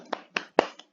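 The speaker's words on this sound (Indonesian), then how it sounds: "Gue tepuk tangan deh buat lo berdua." A person claps hands a few times, four separate close claps with short gaps between them, the last one softer, in a quiet room.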